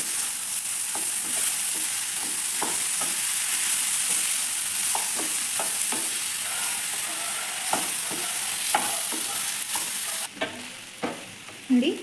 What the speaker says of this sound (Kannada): ಕೊತ್ತಂಬರಿ ಆ್ಯಡ್ ಮಾಡ್ಕೊಂಡು ಮಿಕ್ಸ್ ಮಾಡ್ಕೊಳ್ಳಿ